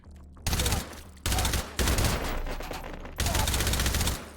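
Gunfire in the VR shooter game Hot Dogs, Horseshoes & Hand Grenades, several loud sustained bursts of rapid automatic fire separated by brief gaps, close and dominant.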